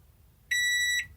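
A single sustained electronic beep from a microwave, lasting about half a second, clear and close in a quiet room.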